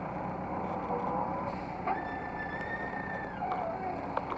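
A tractor works nearby, a steady engine drone with a rising and falling tonal whine and occasional clanks, heard over continuous wind-like outdoor noise.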